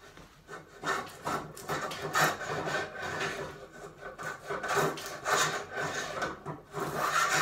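A hand rebate plane cuts a rebate and a small chamfer along timber held in a vise. Close, rhythmic rasping strokes repeat steadily, each a scraping shave of blade across wood grain.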